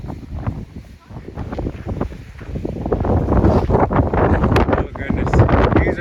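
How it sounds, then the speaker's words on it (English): Strong wind buffets a high exposed spot, roaring and gusting hard against the microphone, rising louder in the second half, with a voice speaking over it. "holy cow, is it windy up here"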